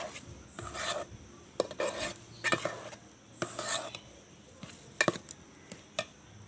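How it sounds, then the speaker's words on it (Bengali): Bread and milk are stirred in a pan into a stiff dough, producing intermittent scraping and rasping strokes with soft knocks of the utensil, faint and close, with no speech. "যতক্ষণ না এটা একটা শক্ত খামিতে পরিণত হচ্ছে ততক্ষণে আমি এটাকে নেড়ে চিড়ে নেব"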